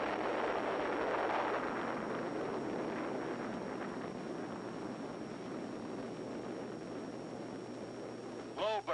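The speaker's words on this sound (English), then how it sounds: "Big bomb." A large atomic bomb test explosion in the Nevada desert gives a loud, sustained broadband rumble with wind-like roar that holds for the whole span, ending in a brief rising tone.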